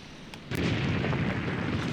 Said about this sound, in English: Man, that is some serious Soviet artillery.